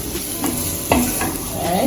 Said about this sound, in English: coat every piece of potato with the curry and the seasoning and let everything just come together.